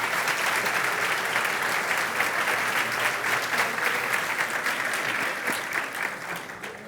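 A church congregation applauding together, a dense sustained wave of clapping from many hands that holds steady and starts to fade near the end.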